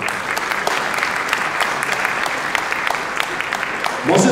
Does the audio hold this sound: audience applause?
yes